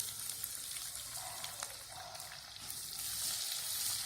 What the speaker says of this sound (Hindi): प्याज डालकर सौते करेंगे